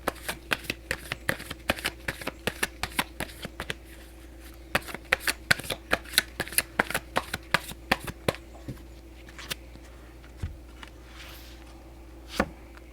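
Tarot cards being shuffled by hand, a fast series of crisp riffling snaps close to the microphone that slows and thins out toward the end, with no voice over it.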